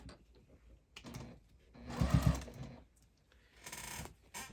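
A sewing machine stitching binding onto a pumpkin-shaped hot pad with a quarter-inch seam, running in a couple of short bursts separated by quiet pauses, close and moderately loud.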